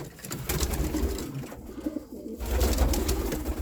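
Racing pigeons coo softly in a loft during breeding season, low rolling coos repeating close by with rustling and movement around them.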